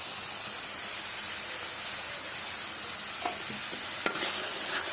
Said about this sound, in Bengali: ভালো করে কষিয়ে নেব, একেবারে মশলাটা তেল ওঠা পর্যন্ত কষিয়ে নেব।